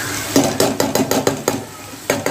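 A spoon scrapes and clanks rhythmically against a pan while stirring browned onion and tomato for a mixed vegetable curry, about nine close, loud strokes with a short pause before the last.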